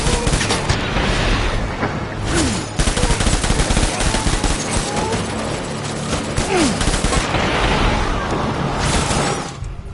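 A dense, continuous volley of automatic gunfire from several weapons firing at once right after an order to open fire, loud and close, with a brief break early on and a trailing fade at the end.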